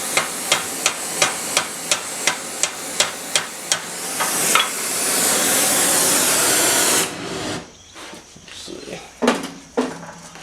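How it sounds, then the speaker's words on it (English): Hammer peening heated steel at a blacksmith's forge to form a flange: about a dozen sharp, evenly spaced metallic strikes ring out close by, followed by a long hiss and scattered clanks. "heat this and peen it over to give it enough of a flange"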